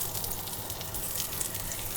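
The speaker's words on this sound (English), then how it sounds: "put this in a nice warm pan, flesh side down, and just hear that little sizzle" A soft, steady hiss of pork belly frying flesh side down in a warm pan, continuous and even throughout, fairly quiet and close, with no voices.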